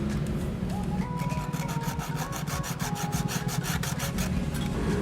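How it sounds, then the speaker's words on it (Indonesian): Rapid rhythmic rasping of sandpaper scrubbing an aluminium heatsink, loud and close, the strokes quickening into a fast back-and-forth scratch. "Selanjutnya akan saya haluskan sedikit dengan amplas"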